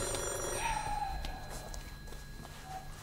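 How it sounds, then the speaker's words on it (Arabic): A telephone rings indoors in an Egyptian family drama series, a steady electronic ringing that is moderately faint over a busy background with a few light knocks. "ما ترد على التليفون؟"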